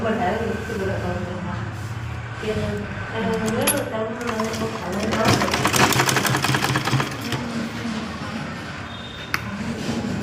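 A sewing machine stitches a pocket on a pair of drawers, running in steady rapid bursts with brief pauses while a person talks over it.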